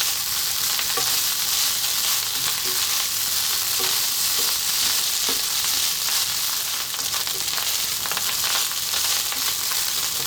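Egg fried rice sizzles steadily in a hot pan while being stirred, a constant loud frying hiss with occasional soft scraping knocks of the utensil.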